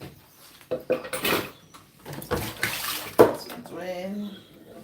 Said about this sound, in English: Just washing off the chopping board because we don't need it any longer.